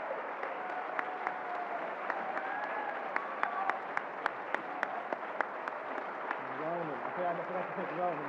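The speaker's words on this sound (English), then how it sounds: "I think they should get a round of applause." Audience applause rises at a gubernatorial candidate forum: steady, dense clapping from a room of people, with voices talking over it throughout.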